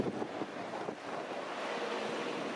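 Caribbean Sea surf breaking below the old city wall of Cartagena, Colombia, a steady broadband wash of waves mixed with gusty wind noise on the microphone, continuous and fairly close with no talking.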